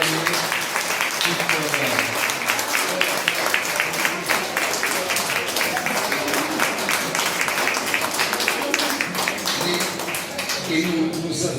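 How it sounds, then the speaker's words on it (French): A crowd claps in a dense, steady patter for the hosts during a visit by a French party and municipal delegation to Sahrawi refugee camps, with voices mixed in throughout. "je pense qu'on pourrait les applaudir pour leur témoigner"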